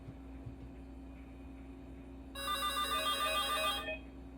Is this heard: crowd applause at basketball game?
no